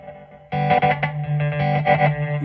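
Guitar loop running through a Mastro Valvola LEM Lysergic Emotions Module effects pedal with its tone brightened by the shift key: a swirling, distorted, chorus-like phrase that kicks in loud after a quiet half second of lead-in, rhythmic and close.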